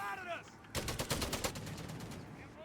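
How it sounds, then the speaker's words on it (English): A heavy machine gun fires in the Company of Heroes 3 strategy game, a loud rapid burst of rattling shots lasting about a second under a commentator's voice. "this heavy machine gun's going to shut that down real quick"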